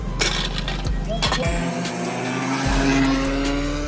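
A go-kart engine droning loudly and continuously on a karting track in Pattaya, Thailand, its pitch rising and falling as the kart speeds up and slows through corners, with faint squeals from the tires.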